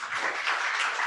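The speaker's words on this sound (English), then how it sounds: "let's give John another round of applause." An audience at a crypto talk series gives a speaker a brief, even burst of applause, with many hands clapping together at a moderate distance.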